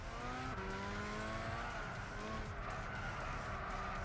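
Car tires squealing while drifting in the Gran Turismo 6 racing game, a continuous wavering screech over a steady engine drone, heard throughout the clip at a fairly low level.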